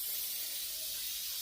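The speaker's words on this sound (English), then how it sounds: "That's the spray adhesive, so it works just like contact cement." Spray adhesive hissing steadily from a can onto cushion material during a truck camper remodel, a continuous close, fairly quiet spray lasting the whole moment with no talk.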